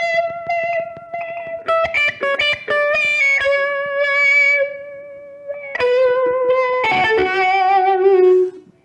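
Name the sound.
guitar through T-Rex Yoy-Yoy effect pedal with distortion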